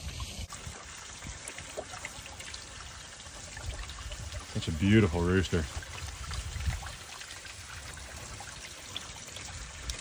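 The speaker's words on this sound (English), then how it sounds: "I'm wasting water, bro." Water pours and trickles outdoors on a farm, a steady splashing stream that swells in the middle, with someone talking over it.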